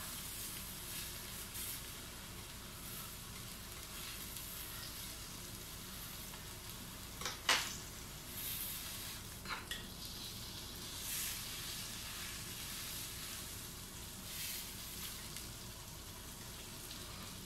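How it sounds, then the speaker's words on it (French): Beef patty for a burger frying in a pan, a faint steady sizzle and hiss throughout with a few sharp crackles and spatters in the middle. "On va laisser cuire le bœuf 2 minutes. Tout cuit bien."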